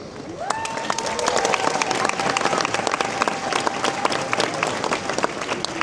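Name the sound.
crowd applause at Riding of the Marches, Edinburgh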